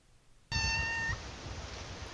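A cat gives a single clear meow that lasts about half a second and starts abruptly. A louder, steady background hiss follows it.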